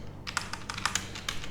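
Rapid keystrokes clatter on a computer keyboard, a close burst of about a dozen clicks in quick uneven rhythm with no talking.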